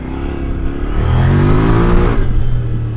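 A KOVE 800X adventure motorcycle on street-biased tires climbs a small dirt hill, its engine rising in a loud, close rev and then easing off, with wind and rattle mixed in.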